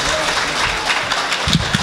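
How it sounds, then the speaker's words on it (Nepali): Audience claps for a flute player at a folk music performance, a brief dense patter of applause with some voices under it. "ताली ताली ताली जोरदार ताली राजयात्री को लागी वो मीठो बांसुरी वादक"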